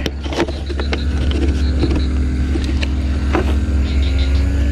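A steady engine hum from grass-cutting machinery runs throughout, with intermittent clicks and knocks over the constant low drone.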